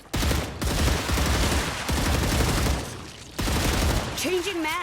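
Sustained automatic gunfire in the Star Rupture video game, a dense, loud stream of rapid shots with a brief dip in the middle, and a voice breaking in near the end.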